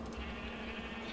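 Sheep bleating in the video game Minecraft, a single short in-game bleat over steady background noise, fairly faint.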